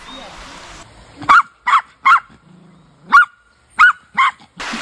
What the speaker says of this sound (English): And there's a little dog that doesn't want me to pass.